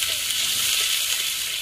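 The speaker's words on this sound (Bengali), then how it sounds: "দিয়ে দিচ্ছি হালকা একটু জল।" A little water poured into spices frying in a pan with green chili and ginger paste sets off a loud, steady, dense hiss of sizzling, close and continuous for the short moment.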